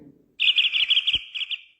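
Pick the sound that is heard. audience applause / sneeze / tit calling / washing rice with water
tit calling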